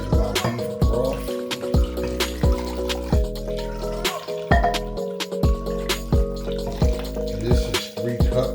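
Liquid splashing and dripping as 3 cups of beef broth go into a pot with onions and garlic for a chuck roast, with irregular close plops and trickles throughout.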